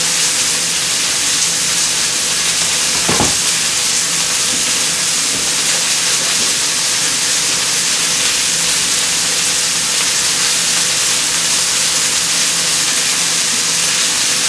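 Brussels sprouts fry on a stovetop pan in a loud, steady broadband hiss of sizzling oil, with one short clatter early on as the pan is shaken.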